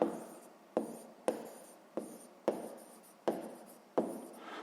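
Chalk strikes a board in sharp, evenly spaced taps, about seven quick strokes, each followed by a short scraping trail during a sixth-grade maths lesson.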